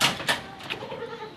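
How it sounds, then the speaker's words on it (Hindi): Goats bleat at a livestock market in Karachi, several short, loud calls close by, overlapping amid the crowded market din. "बहुत आला क्वालिटी की और बहुत खूबसूरत प्रिंट में बकरी है ये"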